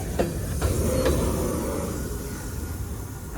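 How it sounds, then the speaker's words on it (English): A CSX manifest freight train rolls past close by, a loud steady rumble of wheels on rail with a few sharp clicks early on, fading slightly as the cars continue by. "there goes train number 5, a CSX manifest"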